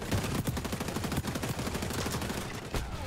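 Rapid automatic assault rifle fire in the shooter game xDefiant, a loud, sustained stream of close shots with brief pauses, continuing for about three seconds with no talking.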